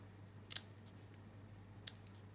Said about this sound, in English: While I've got my scissors out in my hand, I might just banner the ends of my jute twine.